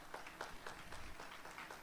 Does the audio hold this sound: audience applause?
yes